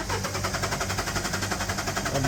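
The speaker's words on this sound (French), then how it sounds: "On peut lance le moteur." A car engine runs steadily during an exhaust gas hydrocarbon check, with a continuous mid-pitched rumble and a regular pulsing throb across the whole stretch, no voices over it.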